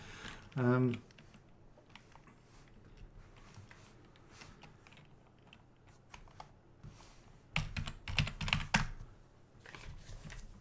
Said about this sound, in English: I'm just typing something to prepare for the next part